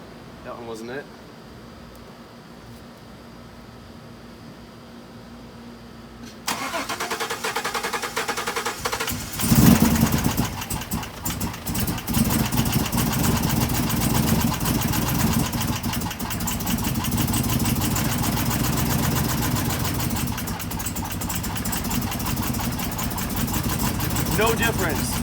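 The engine of a 2016 Camaro with a cracked valve spring runs in a steady, close idle that grows louder after a few quieter opening seconds and continues without a break. A voice speaks at times.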